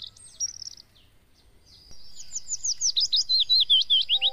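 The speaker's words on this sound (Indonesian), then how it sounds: "kita menggunakan MP3. Diharapkan MP3 ini bisa menarik burung lain untuk mendekat ke area sini" Recorded bird calls played from an MP3 device to lure prenjak birds (prinias) outdoors, a short chirp phrase then a rapid, loud run of repeated high tweets, close and clear over quiet surroundings.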